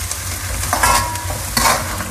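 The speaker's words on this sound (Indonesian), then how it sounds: "Sekarang aku mau masukkan ebi yang sudah dicincang tadi ya. Lalu ini ditumis sampai matang." Chopped dried shrimp stir-frying with garlic and onion in a pan for sautéed okra: a steady, close sizzle with scraping stir strokes and two brief louder bursts of spatula movement, no talking.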